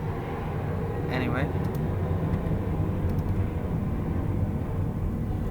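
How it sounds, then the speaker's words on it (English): An airplane flies over near an airport, a steady broadband roar filling the background while a person talks over it. "Sorry for the plane, I live like next to the airport."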